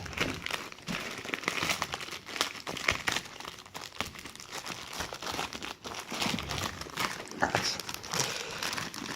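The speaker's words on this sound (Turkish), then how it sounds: "Şimdi poşetimizi itinayla açıyoruz." A 500 gram plastic bag is slowly and carefully opened, giving continuous close crinkling and crumpling with small tearing crackles throughout, quiet overall.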